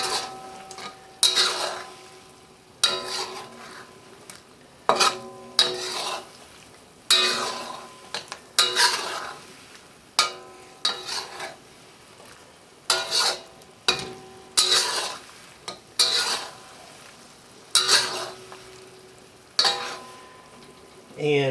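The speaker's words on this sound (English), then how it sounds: "Stir this all thoroughly together." A brown sugar sauce for bourbon chicken being stirred in a wok, with repeated loud scraping strokes of the utensil against the metal in a steady rhythm, close and clear.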